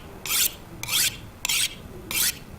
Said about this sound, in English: we now want to sharpen with our whetstone this hatchet